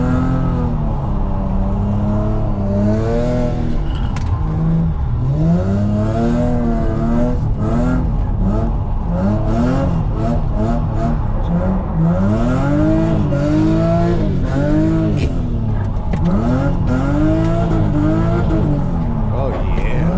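A manual Lexus SC300 drifts with its engine revving hard through rising and falling sweeps and brief tire squeals, loud and close from inside the cabin, while someone talks over it throughout.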